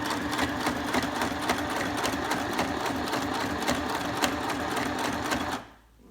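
A We R Memory Keepers Stitch Happy paper sewing machine stitches through paper in a fast, steady mechanical whir with rapid needle clicks, running loud and close for about five and a half seconds before stopping abruptly.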